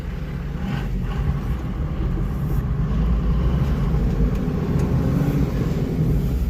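A 60 series Land Cruiser with a swapped-in five-speed manual transmission pulls along in first gear, its engine a steady, loud low rumble heard from inside the cab with no talking.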